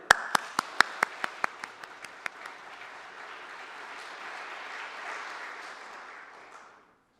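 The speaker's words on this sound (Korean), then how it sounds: "제가 박수치는 것으로 대신 인사를 가름하겠습니다" Applause at a church service installing elders: a single person's sharp, evenly spaced claps open, then the congregation joins in with a softer, sustained wash of clapping that fades out toward the end.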